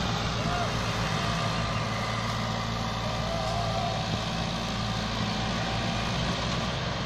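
A 1996 Massey Ferguson tractor, a model 375 or 260 turbo with worn-out clutch plates, strains to pull a heavily loaded sugarcane trolley, its engine drumming in a steady low roar throughout.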